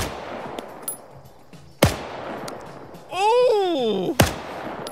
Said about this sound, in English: I just shot Hudson in the ass.